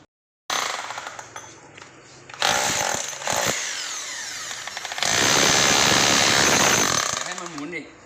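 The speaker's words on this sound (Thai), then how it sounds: "นี่เราไปเจาะอีกข้างใน เป็นพื้นปูนแล้ว" A power drill grinds loudly into hard concrete in several bursts, the whine rising and cutting out, ending in a long sustained drilling run.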